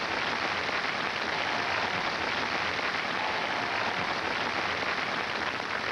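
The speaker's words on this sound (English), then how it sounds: "Round of applause." A large audience applauds steadily at an outdoor televised knockout tournament contest, a dense continuous wash of clapping that stays loud and even throughout with no talk over it.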